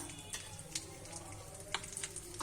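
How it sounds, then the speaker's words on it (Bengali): Whole garam masala, a bay leaf and dried red chillies spluttering in hot oil while tempering for a jackfruit and prawn curry; a soft steady sizzle with a few sharp pops, close up, no talking. "আমি প্রথমে গোটা গরম মশলা ফোড়ন দিলাম, তারপরে একটা তেজপাতা, দুটো শুকনো লঙ্কা"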